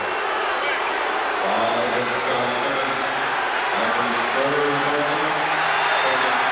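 Basketball arena crowd at an NBA Finals game between the Bulls and Lakers, a steady dense roar of murmuring and cheering voices filling the space, with a commentator's voice running over it throughout.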